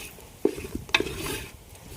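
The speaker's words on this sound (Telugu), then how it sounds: "అందుకని బాగా తిప్పుకోవాలి ముక్క టేస్ట్ రావాలంటే" Village-style country chicken curry stirred in a pan, two sharp clanks of a ladle against the metal followed by a scraping sweep, close up, with no talking.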